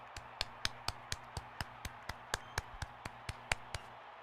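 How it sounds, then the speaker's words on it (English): A few people clap in slow, evenly spaced single claps, about seventeen sharp taps over a low steady hum, quiet and fairly close, for a nice catch being shown at a small gathering. "We all can clap for it."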